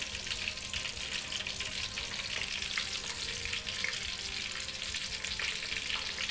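Pieces of pork deep-fry for Phu Thai-style larb, producing a constant, busy bubbling sizzle with crisp crackles throughout, fairly close and steady with no talking.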